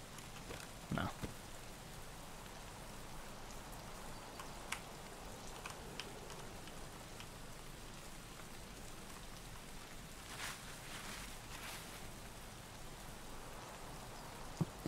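Steady rain pours down in the video game Escape From Tarkov, a constant broadband hiss with occasional louder drop ticks, even and continuous throughout at a moderate level with no talking.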